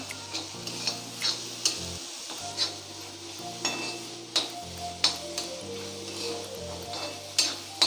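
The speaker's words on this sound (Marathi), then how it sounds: "हे आलं लसूण व्यवस्थित परतून घ्यायचं आहे आपल्याला।" Ginger, garlic and onion sautéing for a Malvani-style prawn masala, a soft steady sizzle with regular spatula scrapes and light taps against the pan, close and fairly quiet, with a faint low hum underneath.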